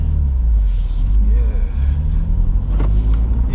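BMW M2 Competition with Eventuri intake and manual gearbox, engine rumbling steadily inside the cabin through a gear change, a low continuous drone with slight dips and no distinct revving peak.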